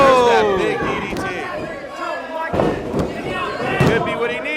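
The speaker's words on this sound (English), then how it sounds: "There's that big DDT." At an independent wrestling event, a wrestler is driven into the mat with a DDT, a heavy slam thudding amid a loud, cheering crowd while a commentator talks over it.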